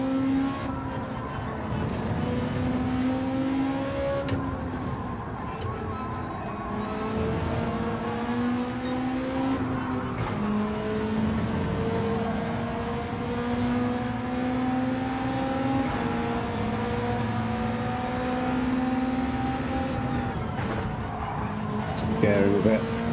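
Race car engine droning steadily in Gran Turismo 7 with tyres squealing under load, a continuous sustained tone throughout, with a voice talking over it.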